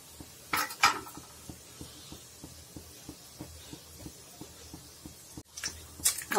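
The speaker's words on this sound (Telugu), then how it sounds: "ఆవాలు సౌండ్లు వస్తున్నాయి చూడండి." Mustard seeds crackle in hot oil with asafoetida for the tempering of an instant fenugreek gongura pickle: a steady run of small, sharp pops close by, with a few louder clinks near the start and end.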